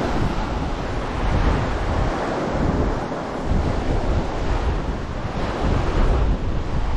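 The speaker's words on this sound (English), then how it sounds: "It's really windy." Strong wind buffets the microphone in a continuous roar, with surf washing underneath on a beach in Boracay, loud and steady throughout.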